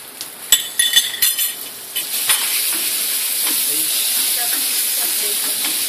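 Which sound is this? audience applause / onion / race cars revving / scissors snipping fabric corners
onion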